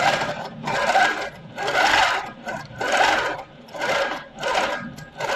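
Sewing machine stitching in bursts, a whirring rattle of rapid stitches that rises and pauses in about five regular runs, close and fairly loud with no talk.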